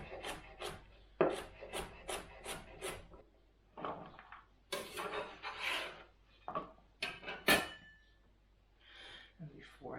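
Knife chopping vegetables coarsely for soup on a wooden board during weekend meal prep, a series of sharp, close, rhythmic cuts in bursts with pauses and some rubbing and handling noise between them.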